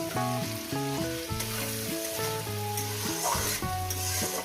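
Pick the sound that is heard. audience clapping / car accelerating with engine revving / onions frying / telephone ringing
onions frying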